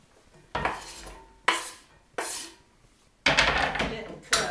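A knife chops onions on a cutting board with five sharp, separate knocks of the blade, each followed by a short ringing decay, close and moderately loud, with no talk over them.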